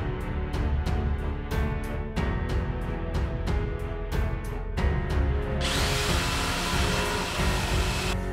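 A power saw cuts through wood during a home DIY build, loud and close, in repeated short bursts with brief pauses that give way to one continuous cut near the end.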